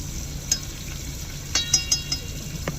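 Lobster cooking in a covered pan inside a truck cab, a steady low frying hiss with a few soft pops and ticks scattered through, close and fairly quiet, no talking.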